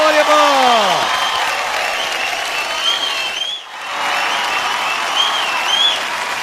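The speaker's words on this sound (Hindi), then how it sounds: "everyone give it up for Alia Bhatt" A large crowd at the 2019 Filmfare awards show claps and cheers loudly as a Bollywood actress is welcomed, with sweeping electronic musical tones over the applause and a brief dip midway before the clapping swells again.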